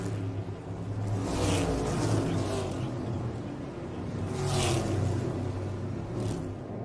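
NASCAR Cup cars circle slowly under caution at the Quaker State 400, a low rumbling engine drone with a couple of louder swells as cars pass nearby, with no talking.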